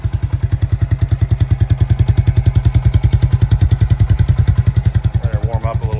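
A 2002 Suzuki King Quad 300 4x4 ATV with a center exhaust idles steadily just after start-up, a loud, close, even chugging pulse throughout, with a brief voice near the end.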